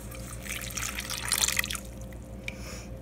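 Warm water, around 110 degrees, poured at a kitchen counter to activate yeast for baking bread, a soft splashing trickle that swells briefly and then fades to a few faint drips.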